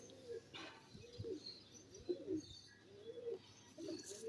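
Pigeons cooing softly in low, repeated rolling calls at a steady pace, faint and close against a quiet background with a few light chirps, no talking.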